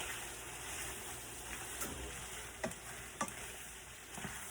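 A stir fry sizzles faintly and steadily in a pan, with a few soft clicks and taps from stirring.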